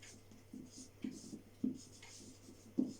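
Handwriting marks a chemical formula during a chemistry lesson, with a series of soft scratchy strokes and taps, close and quiet, at an uneven pace.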